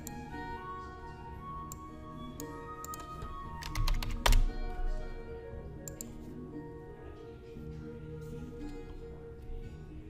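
Rapid clicking of computer keyboard keys during password entry, steady close-up typing with a brief cluster of louder key strikes midway, under quiet background noise.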